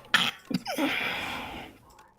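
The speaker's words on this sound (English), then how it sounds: "You can't control when you sneeze." A single sharp sneeze with a quick intake of breath just before it, close and loud, followed by a breathy exhale that fades out.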